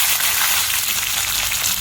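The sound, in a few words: curry leaves sizzling in hot oil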